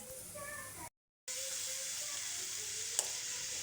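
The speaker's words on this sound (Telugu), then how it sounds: "ఇలా గుమ్మడికాయ అంతా కలుపుకోవాలి" Pumpkin pieces frying in an oil pan with mustard seeds, curry leaves and onion, a steady close sizzle with faint crackles, broken by one brief silent cut and a single sharp tap.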